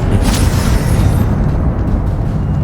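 A Confringo spell explosion in the video game Hogwarts Legacy rumbles loudly as a sustained booming blast that fills the whole short stretch.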